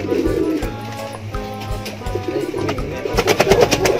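Pigeons coo at a pigeon farm, with repeated soft throaty calls from several birds close by, over a background of faint shuffling and rustling.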